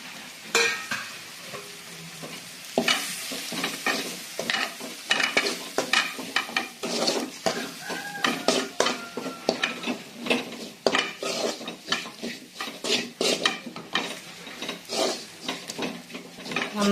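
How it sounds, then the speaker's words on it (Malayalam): Spoon stirring turmeric, coriander and chilli powders through a pan, a busy run of scraping and clinking strokes over a soft sizzle, close and steady throughout with no talking. "നന്നായി ഒന്ന് ഇളക്കി കൊടുക്കുക."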